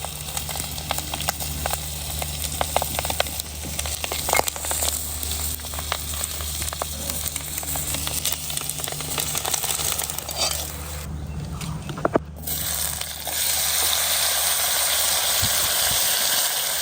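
Eggs frying in a pan at home, a steady close sizzle over a low constant hum, growing brighter and louder toward the end.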